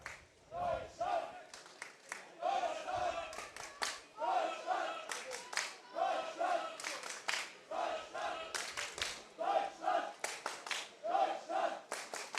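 German rugby fans in a stadium crowd at a Rugby World Cup repechage match against Hong Kong chant and clap in a steady rhythmic pattern, loud and sustained across the whole stretch with repeated bursts.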